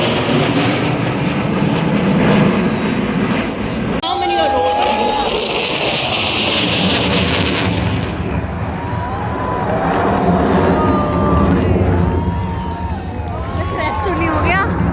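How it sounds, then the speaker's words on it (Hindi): Fighter jets such as Jaguars roar overhead at a Republic Day parade flypast, a loud sustained rushing drone that swells and fades across the sky, mixed with crowd noise and an announcer's voice. "छठी जैगुआर जैसे अनेकों लड़ाकू विमानों के माध्यम से अपने शौर्य के हस्ताक्षर करते नभ स्पष्ट दीप्तम के रंग बिखेरते हमारे वायु योद्धा।"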